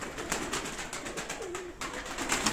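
Pigeons in a loft coo repeatedly at close range, soft rolling calls overlapping with light rustling, no voices.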